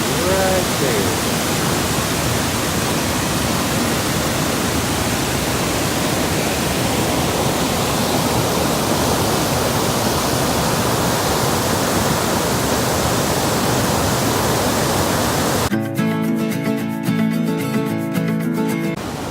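Hunt Fish Falls, a North Carolina mountain waterfall, roars as a loud, constant broadband rush of falling water close by, cutting off abruptly near the end to much quieter surroundings.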